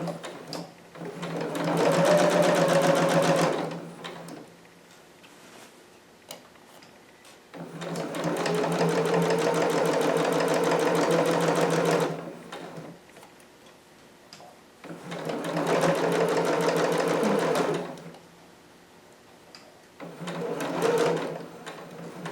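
A sewing machine stitches a seam on a McCall's 7402 harem jumpsuit, running in three long steady bursts of several seconds each, separated by quiet pauses, with a shorter fourth run at the end.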